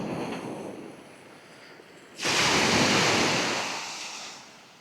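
Waves wash onto a deserted beach on the Isle of Harris, Scotland. A soft surf hiss gives way to a louder breaking rush about halfway through, and it slowly fades as the water draws back.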